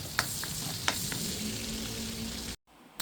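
Garlic and onions sautéing together in a pan for chicken afritada, a steady close sizzle with a couple of sharp stirring clicks before a brief cut.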